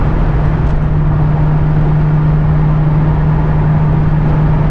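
A 1991 Ford Mustang LX 5.0 convertible cruising at highway speed with the top up, heard from inside as a loud, steady roar of engine drone, road and wind noise with a constant low hum.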